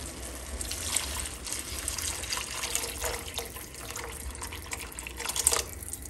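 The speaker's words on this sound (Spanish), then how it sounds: "le vamos a agregar agua." Water poured from a container into a pot of simmering tomato sauce, a steady, close splashing flow that runs throughout with a brief louder surge near the end.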